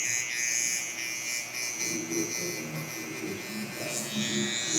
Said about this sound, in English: we are putting this in with our trimmer